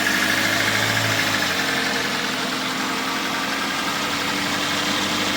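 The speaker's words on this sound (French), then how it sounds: "je vais laisser un petit peu tourner le moteur" A cold Mercedes A-Class (W169) engine idles after a chain tensioner replacement, with a steady, loud mechanical hum and a slight rev dip near the start, no talking.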